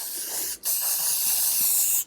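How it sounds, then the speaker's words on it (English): Hairspray hisses onto a doll's styled wig in two close, steady bursts, the first short and the second long, with a brief pause between them. "Let's just hairspray a little bit."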